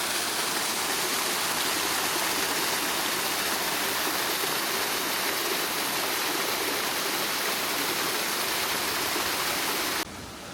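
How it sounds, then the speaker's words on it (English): Water bursting down the side of a valley in the Alton Towers gardens, a loud, constant rushing roar like a stream or waterfall, steady throughout and alone. "The water's absolutely bursting down the side of the valley at the moment."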